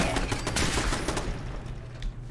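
Automatic turrets firing in Fallout 4, a dense rattling fusillade of rapid shots that carries on steadily, loud and close, with no voices over it.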